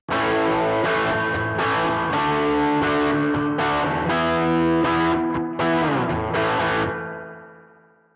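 Distorted electric guitar strums chords with a washy spring reverb, ringing out and fading into a reverberant tail at the end.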